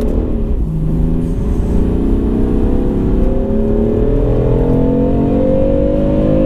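A BMW M3 engine pulls hard from close by, its note climbing steadily in pitch as it accelerates, with a brief dip near the start before the revs keep rising.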